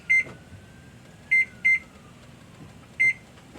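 A kitchen timer being set emits four short, sharp electronic beeps at uneven intervals, one isolated and a close pair, over quiet room hum while a stovetop percolator brews coffee.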